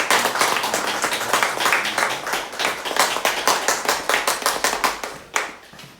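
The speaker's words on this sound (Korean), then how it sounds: "뜨겁게 박수해 주시기 바랍니다" A church congregation claps together in a steady, even rhythm during a Sunday morning service, a dense burst of many hands held for several seconds before tapering off, with no talking.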